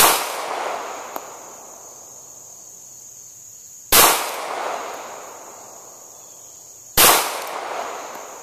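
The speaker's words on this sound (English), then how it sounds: "Well, let's fire off these last 4 rounds." A Smith and Wesson Bodyguard pistol fires at an outdoor range: three loud, sharp cracks a few seconds apart, each trailing off in a long ringing decay, with a faint click between them. No one speaks.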